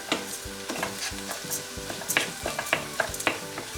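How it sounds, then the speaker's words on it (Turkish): Bulgur being toasted and stirred in a pan with tomato paste, onion and peppers gives a soft, steady sizzle broken by repeated scraping strokes of the spoon, heard close and moderately quiet with no voices. "Ve salçamı da güzelce karıştırdıktan sonra hemen bulgurumu ekleyeceğim. Bulguru da kavurmak istiyorum güzelce."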